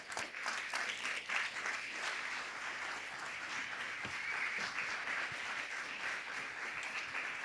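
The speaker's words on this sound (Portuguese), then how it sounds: "Se você quer aplaudir junto, aplaude a Jesus." A church congregation at a consecration service applauds steadily. The sound is a dense, continuous wash of many hands clapping at even loudness, with faint voices mixed in.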